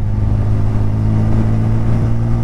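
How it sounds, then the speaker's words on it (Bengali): A motorbike engine drones steadily and loud at close range while riding a wide mountain road in Arunachal Pradesh. It holds a constant low hum with no speech. "ও, বাইকের আওয়াজটা কি লাগছে"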